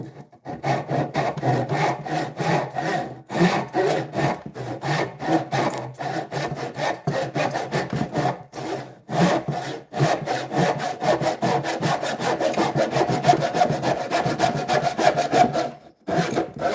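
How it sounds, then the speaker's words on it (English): A handsaw cuts through wood in a long run of quick, even rasping strokes, close and loud, with brief pauses and no talking throughout. "Let's be silly and see how it goes with a handsaw."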